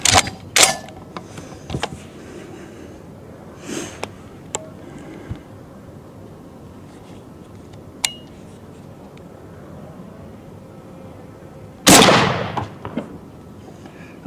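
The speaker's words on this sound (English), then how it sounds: "now the first round's going to be the SAR USA 2 3/4 inch double aught buck" A single sharp, loud blast from a 12 gauge shotgun firing SAR USA 2 3/4 inch double aught buckshot, preceded by scattered clicks and handling noises in an otherwise quiet outdoor setting.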